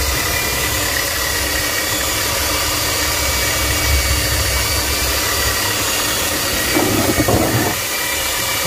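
A machine spinning fish pieces into shark chum runs as a loud, steady churning drone with a broad hiss, a brief grinding surge near the end, no voices.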